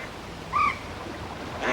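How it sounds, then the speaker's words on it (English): Ducks on the water give a short burst of quacking calls, then another brief call a moment later, over a steady outdoor hiss. "I'll swear those are the self-same ducks that I fed here 23 years ago."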